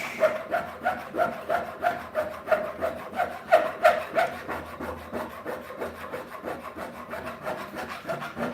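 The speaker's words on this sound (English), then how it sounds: "then I come over here and start filing to get my finish" Hand file rasping over a knife handle, a close rhythmic scraping of steady back-and-forth strokes, fading to softer, less regular rubbing toward the end.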